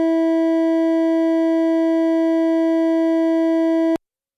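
A steady sine tone at the fifth harmonic holds one pitch for about four seconds, then stops abruptly, with silence after.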